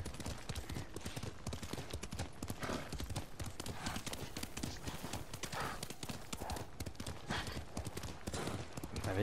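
Hooves of a horse clip-clop in a quick steady rhythm in the Ghost of Tsushima video game, close and continuous throughout with a faint background bed and no clear talk.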